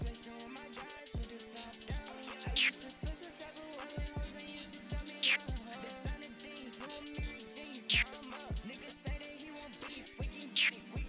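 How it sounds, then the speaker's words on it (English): Second hi-hat pattern from a recreated trap beat, with rapid ticking hats and pitched rolls running over an 808 and melody loop, steady and up front with no talking. "Also then have another hi-hat pattern which sounds like this."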